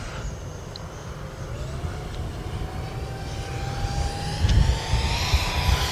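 Twin 40mm electric ducted fan RC jet, an X-Fly Raptor, running at full speed into the wind, giving a steady whining roar with a rising tone and a broad rushing rumble, growing louder toward the end, with no talk.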